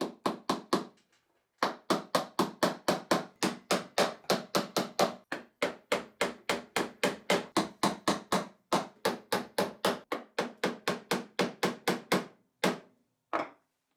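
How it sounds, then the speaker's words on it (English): Hammering on a large model showman's engine: a long run of sharp, evenly spaced metallic blows, close and loud, with a brief pause near the start and a few slower strikes at the end, no talk. "And while Andy was having a hammering festival"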